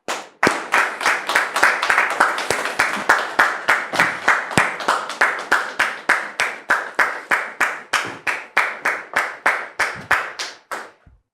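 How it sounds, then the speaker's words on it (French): A studio audience on a French talk show claps for a guest's entrance, a loud, even run of sharp, rhythmic claps close together for over ten seconds before tapering off, with no voices. "Merci public de recevoir M. Adia sous vos applaudissements"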